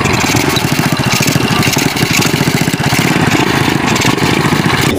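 A motorcycle engine idles and revs steadily at close range, its dense mechanical drone running without a break.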